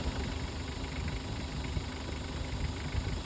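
Mitsubishi 4D56 diesel engine idling steadily after a camshaft replacement, a continuous low rumble with even vibration throughout, close by and without speech.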